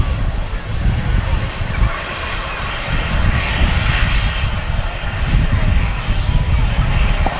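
An EasyJet airliner arriving at Manchester Airport from Reykjavik, its engines giving a steady, fairly loud roar that holds throughout, with faint voices in the background.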